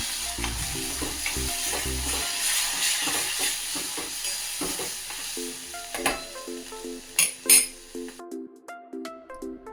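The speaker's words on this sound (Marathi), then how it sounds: "त्यानंतर मिरच्या टाकायच्या आणि अजून परत त्या दोघांना चांगलं भाजू द्यायचं" Chillies sizzle and fry in a hot pan for tomato chutney, a steady crackling hiss with stirring scrapes and a few clinks of a spoon against the pan, growing sparser and more broken toward the end.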